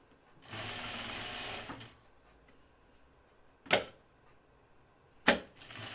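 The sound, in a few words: sewing machine stitching a seam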